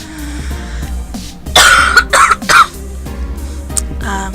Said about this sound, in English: So from all the coughing and nonsense, I've kind of lost my voice